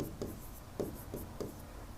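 Chalk or marker strokes on a classroom board during a maths lesson: a few distinct scratchy strokes in an uneven rhythm, close and fairly faint, with no talking.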